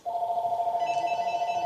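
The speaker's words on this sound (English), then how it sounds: "Sorry about the phone, guys." A telephone rings with a steady electronic trilling tone, loud and close, continuing unbroken and alone.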